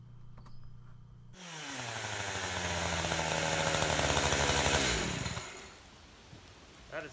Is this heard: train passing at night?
no